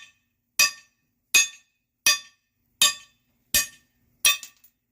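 Six hard metallic hammer blows, evenly spaced about three-quarters of a second apart, striking stock wheel lug studs out of a Ford 8.8 rear axle hub, each a bright ringing clank followed by silence.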